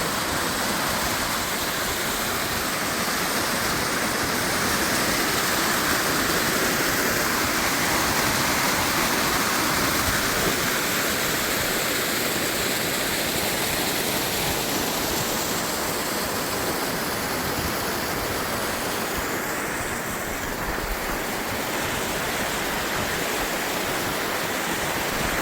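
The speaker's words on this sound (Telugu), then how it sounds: "ఇది చూడు స్నేహ, ఆ వాటర్ వచ్చినాయి." Water rushes through an opened dam gate at Thief River Falls, Minnesota, a loud, continuous broadband roar that stays steady and close throughout, with no talk.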